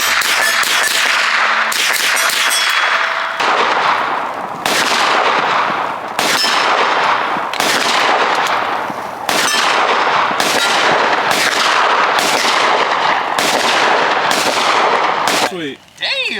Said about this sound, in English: It hit rapid fire.